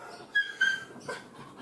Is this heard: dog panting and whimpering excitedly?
yes